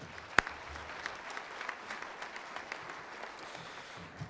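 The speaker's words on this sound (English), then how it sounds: "If we could give them a round of applause, please." Audience at a utility cooperative's annual meeting claps steadily for several seconds, a dense moderate patter of many hands after one sharp close clap at the start, fading slightly toward the end.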